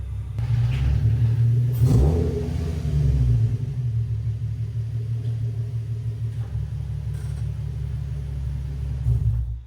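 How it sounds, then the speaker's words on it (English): A Nissan 350Z with a slipping stage 3 clutch drives up onto ramps, its engine giving a deep, steady low rumble with a brief louder rev early on, heard close and alone. "I'm gonna drive the car up and go from there."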